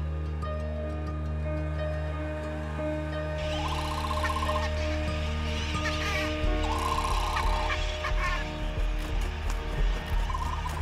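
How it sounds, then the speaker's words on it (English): A Laysan albatross seabird colony on Midway Atoll, with many birds calling at once in a dense wash of honking, whistling cries over constant background noise. "The island's most abundant bird is the Laysan albatross"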